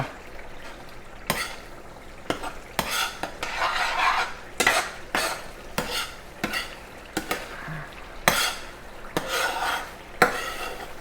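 A thick tomato-paste sauce cooks in a pan while a utensil stirs and scrapes it repeatedly, with an irregular rhythm of scraping strokes over a faint sizzle, close up and with no talking.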